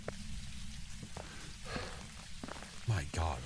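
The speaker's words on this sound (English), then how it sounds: "It's raining sideways." Heavy rain in Phasmophobia, a constant rushing hiss of downpour with clicks and rattles, heard under a person talking intermittently.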